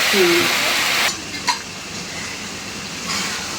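Vegetable fry sizzling in a pan, stirred with a utensil in a home kitchen, a steady close frying hiss with a few clinks and scrapes, louder at first then settling into a softer sizzle.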